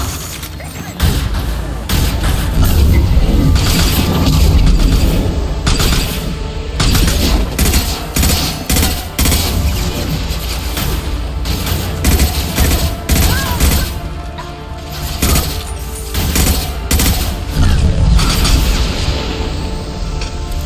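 Sustained gunfire in Mass Effect 2, a loud, dense fusillade of rapid shots and booming impacts running nearly continuously, with brief lulls between bursts.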